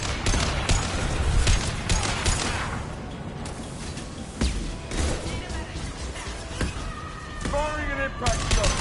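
Mass Effect 2 combat with an impact shot fired from cover: sharp gunshot bursts and crashes in a busy battle mix, loud and close, with scattered voices and effects throughout.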